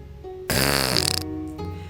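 A monster fart sound effect, one loud, buzzy, fluttering blast lasting under a second, set against a soft musical background.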